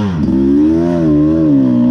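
A 2023 Beta 300RR Race Edition two-stroke dirt bike engine runs loud and close while riding off-road, holding a steady buzzing note with slight rises and dips in revs, with no talk.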